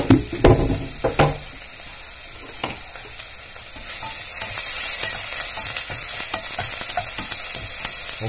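Half an onion goes into a hot pan for risotto, with a few loud knocks and clatters at first, then a steady sizzling fry that builds and keeps crackling close by, with no voices.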